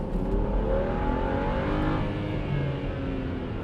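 A frame-damaged BMW 335i F30 accelerates while driving, its engine note climbing through rising revs in a steady, close, continuous pull with road noise underneath.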